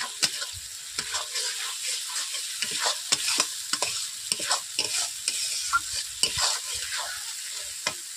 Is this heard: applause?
no